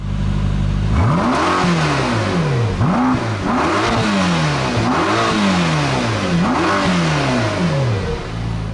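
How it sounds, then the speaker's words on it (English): A 2021 Mercedes-AMG GT Black Series engine with sport exhaust revs repeatedly in loud, rising-and-falling bursts, about five sharp throttle blips with a deep exhaust note, close by. "Take a listen to this car with its sport exhaust turn on."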